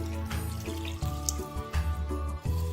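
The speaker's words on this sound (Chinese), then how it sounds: "倒入650毫升清水，水量刚好没过食材" Water poured steadily into a rice cooker over stir-fried squid and other ingredients, a continuous close splashing gurgle with slight rhythmic fluctuations.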